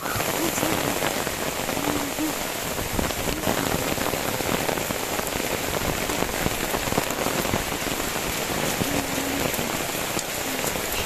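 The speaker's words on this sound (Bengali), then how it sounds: "কি ঝমঝমিয়ে বৃষ্টি পড়ছে জানো তো" Heavy rain pours down in a dense, continuous hiss and patter on surfaces, loud and unbroken throughout.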